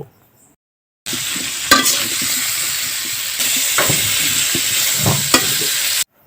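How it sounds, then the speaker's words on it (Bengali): Steady, loud sizzling of cauliflower frying with salt and turmeric in a pan, broken by scraping stirs and a few clinks of the spatula, with no talking. "এখন আমি লবণ আর হলুদের সাথে ফুলকপিগুলো কিছুক্ষণ নেড়ে নেব"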